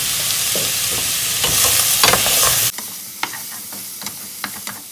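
Steak and mushrooms frying in a pan for a steak and cheese sandwich, a loud, dense sizzle with spatula scrapes that drops abruptly halfway into quieter crackling and occasional stirring taps.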